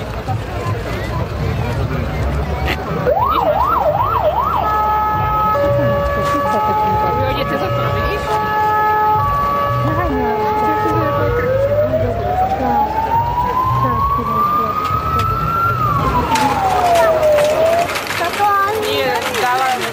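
Sirens wail through a fire brigade and ambulance demonstration at a police day event at the Trenčín exhibition grounds. Fast warbling tones and long rising and falling sweeps sound loud over a busy outdoor crowd, with people talking throughout.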